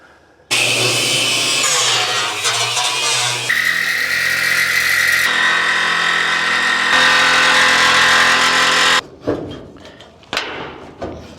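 Power tool cutting wheel slicing into shipping container steel, a loud continuous high-pitched grinding whine lasting about eight seconds, then cutting off into a few bumps and thuds.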